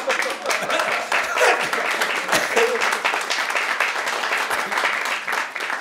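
Steady applause from a crowd fills the stretch at a fairly even level, with brief voices and murmurs rising above the clapping.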